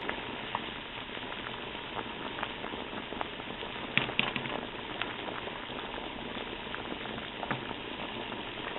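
Rotini pasta boiling in a pot of water, a steady low bubbling churn with soft patter, fairly quiet and continuous, with a brief clatter partway through.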